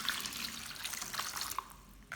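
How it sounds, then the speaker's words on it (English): Water poured from a tap over shrimp heads and shells in a bowl, a steady splashing, trickling rush, close and alone. "Then pour in enough water to fully cover them."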